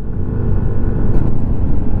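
An oncoming vehicle passes on the Marilaque mountain highway, a steady, loud, close engine rumble that holds for the whole moment without a clear fade.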